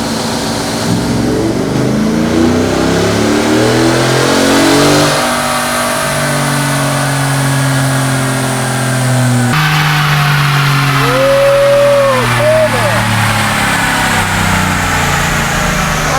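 A 2024 Ford F-150 on a dyno runs 5th gear pulls. The engine is loud and close, rising in pitch as it revs, then drops back and climbs again through a second pull.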